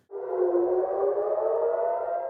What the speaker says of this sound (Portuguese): Sirenes voltaram a tocar em diversas regiões de Israel.